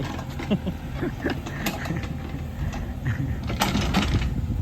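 A Kubota KX033 mini excavator with a direct-injection engine and cab runs close by while repairing a flood-eroded dirt track, giving a steady mechanical rumble with clanking and creaking from the arm and tracks throughout.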